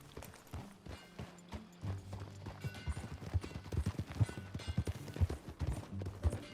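Horse hooves clip-clopping in Red Dead Redemption 2 as the horse sets off at a walk, then breaks into a quicker, rhythmic run, close and steady, with faint game ambience.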